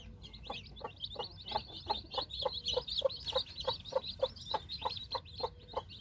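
Village hens cluck steadily with repeated short calls while newly hatched chicks peep in high, rapid chirps throughout, fairly close with a low rumble underneath.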